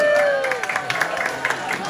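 Audience at a Vietnamese language school event in San Diego breaking into brief, scattered applause, claps patting irregularly after a fading voice.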